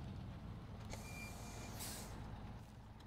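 A truck's air brake releases a brief hissing burst in the SnowRunner video game, rising over a steady low engine rumble, moderately close.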